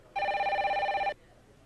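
A telephone gives one clear, bright electronic ring of about a second in a dental service TV commercial from 2000, loud and alone before falling silent.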